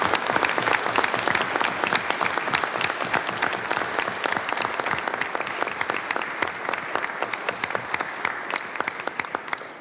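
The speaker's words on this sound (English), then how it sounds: "Another quick round of applause." An audience at a school board of education meeting gives a sustained round of applause, dense even clapping throughout with no pause, close and fairly loud.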